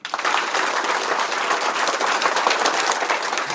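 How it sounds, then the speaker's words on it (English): Bank staff trainees in a Hyderabad training session clap their hands together, a dense burst of brisk group clapping that starts abruptly and holds at a steady level. "Clap."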